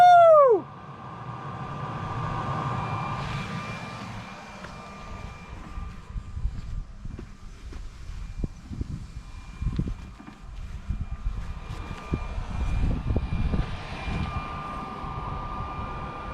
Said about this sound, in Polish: Latuje powietrze, leci ciepłe powietrze tutaj, czyli działa sukces